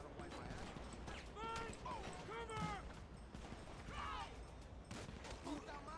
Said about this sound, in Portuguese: O policial, ó, atirando dessa distância de 12, velho.